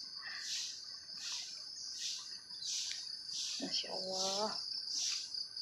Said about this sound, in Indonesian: Kita lihat, biasanya ada suara burung-burung, suara jangkrik juga ada.